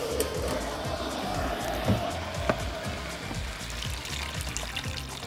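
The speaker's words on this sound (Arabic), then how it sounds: "تعالوا بقى ننزل ميه سخنه." Hot water poured into a pan of vegetables cooked with tomato sauce and sugar, a continuous splashing, gurgling stream close by that holds steady for several seconds.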